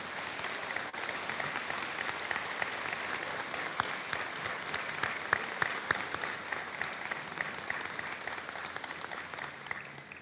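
Steady applause from an audience at a senior awards night honoring recipients, a dense even patter of many hands clapping without a break, moderately loud.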